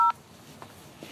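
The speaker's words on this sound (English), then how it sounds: "To accept this call, press 0." A single telephone keypad tone, pressed to accept a collect call from a corrections facility, rings out loud and alone at the start, then gives way to quiet line hiss with two faint ticks.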